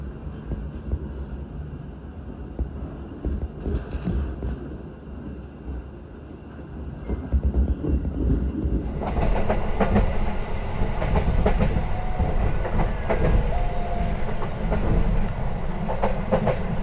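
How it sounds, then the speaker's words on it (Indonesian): The Argo Lawu executive train pulls out of Purwokerto station, a low rumble building into louder, steady rolling clatter and wheel noise as it gathers speed. "kereta api Argo Lawu diberangkatkan kembali dari stasiun Purwokerto."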